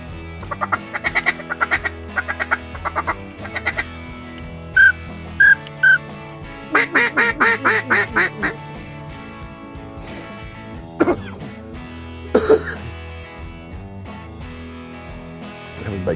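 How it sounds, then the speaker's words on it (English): Mallard ducks heard outdoors among a busy mix of sounds, with bursts of quacking calls in rhythmic series, fairly close, alongside whistles and other noises. "I hear some mallards over here to the right."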